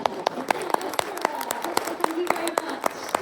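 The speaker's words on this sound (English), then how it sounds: "one person clapping" A lone person claps steadily at a comic convention panel in Stockholm, about a dozen sharp, evenly spaced claps in quick succession against a quiet room with faint background voices.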